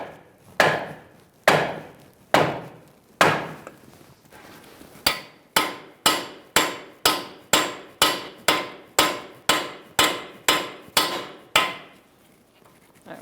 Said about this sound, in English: Use a piece of wood and a sledgehammer after you put your nut on that stud.